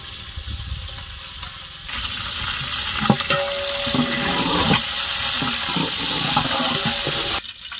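Green chilies fry in clean groundnut oil with a steady, close sizzle and crackle. Stirring scrapes and clinks come through, a sharper burst of hissing builds mid-way, and the sound cuts off abruptly near the end.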